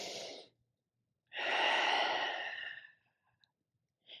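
Slow, audible breathing during a yoga pose: a short exhale, a pause, then a longer, deep sighing breath out, heard close and alone in a quiet room.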